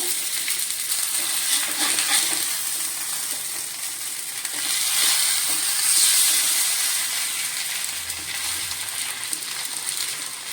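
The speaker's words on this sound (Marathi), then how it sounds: "मध्यम गॅसवरच आपण हे बांगडे भाजून घेणार आहे" Bangda mackerel shallow-frying in a pan over medium gas gives off a continuous, even sizzle and hiss with soft fluctuations, close by and without voices.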